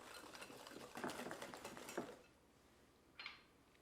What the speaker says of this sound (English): And we'll just give this a nice little mix.